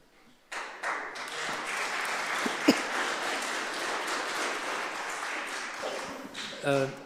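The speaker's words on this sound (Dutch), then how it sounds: "Mag ik het publiek nogmaals verzoeken om niet te applaudisseren?" Audience applause breaks out in a municipal council meeting debating an environmental vision plan, a broad, steady patter of many hands clapping for several seconds, with a sharp tap near the middle and a voice speaking near the end.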